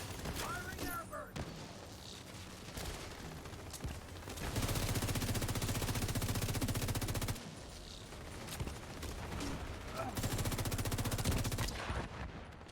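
Repeated bursts of rapid weapon fire from an airburst launcher skill in The Division 2 dominate the mix in two long sustained stretches, loud and close, with game sounds and brief talk in between.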